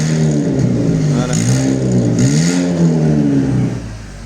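A Chevrolet Cobalt fitted with a straight-through exhaust revs loudly and up close, its engine note climbing and falling through several throttle blips in a steady, throaty drone with no one talking.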